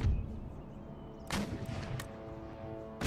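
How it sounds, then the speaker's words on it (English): Cannon batteries fire shrapnel shot in Empire Total War, with a low rumble at first, then a sharp distant crack followed by more scattered reports and a final close bang, fairly faint overall. "Let's get some of these gunners firing shrapnel shot,"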